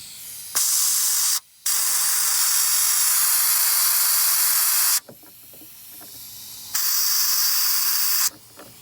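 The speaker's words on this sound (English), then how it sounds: "I'm just taking that air nozzle and sticking it right in front of that drain hole down there and blowing any leftover debris out" A compressed air nozzle blasts into the sunroof drain hole of a Toyota Land Cruiser 100 Series to clear debris: loud, steady hissing bursts with two short breaks, then a quieter stretch before a final blast.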